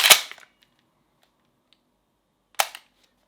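An HK G3A3 gas blowback airsoft rifle dry-fired on an empty magazine gives two sharp, close snapping clacks about two and a half seconds apart, with near silence between them.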